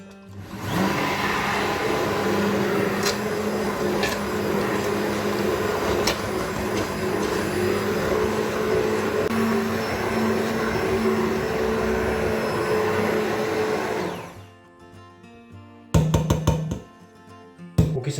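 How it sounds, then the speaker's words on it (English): A hand blender whirs steadily through pumpkin soup for about fourteen seconds, loud and continuous, then stops, followed by a few brief knocks and clatters. "today I'm using a hand blender."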